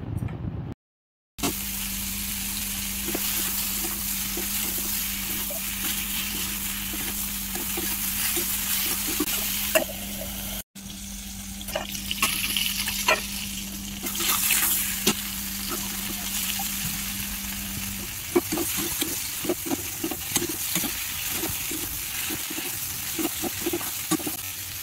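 Potatoes fry in a pan with crushed ginger and garlic and no other spices, giving a steady close sizzle with stirring scrapes and clatter toward the end.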